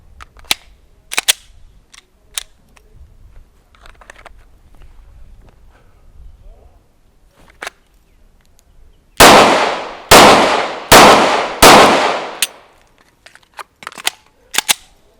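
A compact Mark Mini handgun firing Winchester Ranger 127 grain +P carry ammunition: four loud, sharp shots in quick succession at close range, preceded and followed by lighter clicks and handling noises.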